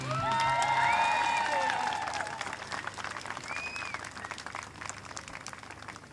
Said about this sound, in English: Big round of applause again then.